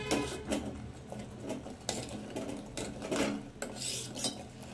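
A spoon scrapes and clinks against a pot as jaggery goes in and is stirred for jaggery payasam, irregular metallic taps and rasps at close range with no talking.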